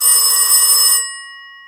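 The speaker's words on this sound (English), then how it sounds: "Then the phone rang." A telephone bell rings loudly in a single close, shrill burst that cuts off and leaves a fading ringing tail; a 1970s horror-story sound effect.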